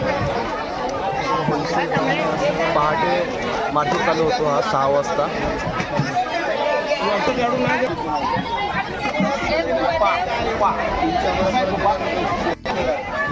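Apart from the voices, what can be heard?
crowd chatter at a wholesale fish market in Palghar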